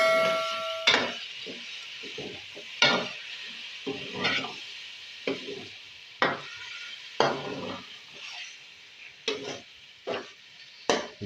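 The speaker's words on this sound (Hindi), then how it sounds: "अब इसमें दही ऐड करेंगे।" Beef qeema fries in oil with yogurt just added, stirred by a spoon in repeated close scraping strokes, roughly one every second, over a soft continuous sizzle.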